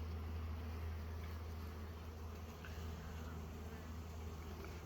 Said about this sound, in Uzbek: Arilar tinch holatda ishlayapti.